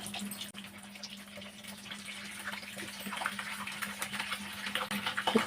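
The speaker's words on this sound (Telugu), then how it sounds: "ఇదిగోండి ఆయిల్ కాగిపోయిందండి. ఇప్పుడు మనం ఈ పీసులు వేపుకుందాం." Chicken pieces frying in reused hot oil for a Kuwaiti-style chicken machboos biryani, a steady close sizzling hiss with scattered crackles and pops that grows slightly louder toward the end, with no talking.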